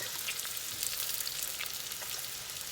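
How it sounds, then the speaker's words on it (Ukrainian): Onion frying in a pan, a dense continuous hiss and crackle of hot oil held steady throughout, close and moderately loud with no talking. "І тепер сюди кидаю цибулю, кинула."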